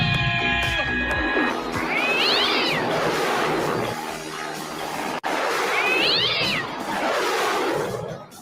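A cat meows twice, close and clear, with long drawn-out calls spaced a few seconds apart over a steady room background; no one talks.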